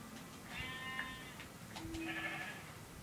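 Sheep in the video game Minecraft give two short, faint bleats a second apart, thin and synthetic-sounding over low background noise, with no talk heard.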